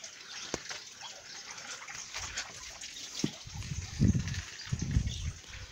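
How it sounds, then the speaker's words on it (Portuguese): Water running from the spring spout at the Bica in Santo Antônio dos Posseiros, a soft continuous trickle outdoors with a few louder splashing surges toward the end, and no talking. "Eu estou nesse exato momento num dos lugares mais bonitos aqui do Santo Antônio, que é a Bica."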